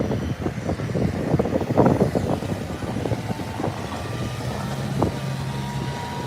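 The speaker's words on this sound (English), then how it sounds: "we got some wind here" Steady wind buffets the microphone at the SpaceX Starbase launch site in Boca Chica, Texas, a constant low roaring rumble with gusty swells and a faint hum, with no talk.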